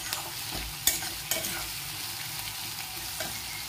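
Masala sizzling and frying in a pan over a high flame, with a spoon stirring and scraping now and then, a steady hiss close by and no voices.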